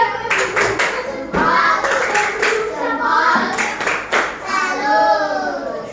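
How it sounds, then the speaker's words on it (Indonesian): An Indonesian primary classroom claps together in a few quick bursts of applause, close by, with children's voices chattering between and over the clapping. "Beri tepuk tangan."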